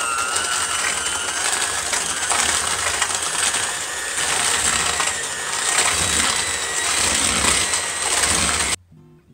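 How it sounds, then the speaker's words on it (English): A handheld electric mixer whirs steadily as it combines peanut butter and sugar for flourless cookies, a loud continuous motor drone with grinding texture that cuts off abruptly near the end. "now I'm going to take my handheld electric mixer and start to incorporate the peanut butter"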